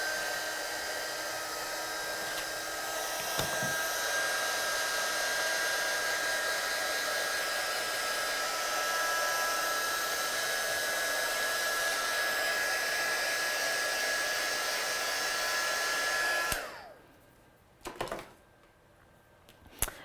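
A heat tool drying watercolour paint on a card runs as a loud, steady blowing whine for about sixteen seconds, then switches off, followed by a couple of brief soft bursts.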